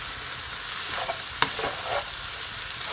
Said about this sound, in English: on a high heat and just keep stirring it, okay?